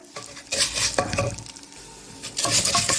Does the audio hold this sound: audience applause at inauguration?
no